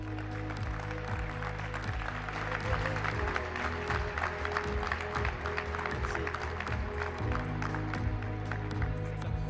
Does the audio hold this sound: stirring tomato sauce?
no